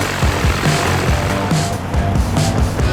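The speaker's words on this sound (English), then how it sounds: "We're in a pretty light aircraft." Light aircraft in flight, heard from inside the cockpit during spin training: a loud, continuous engine and propeller drone with a rough pulsing low rumble and no talk.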